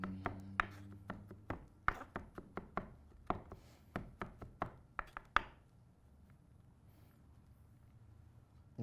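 Garlic is chopped with a knife on a board in a quick series of about fifteen sharp, close taps at an uneven rhythm, then stops, leaving quiet room tone.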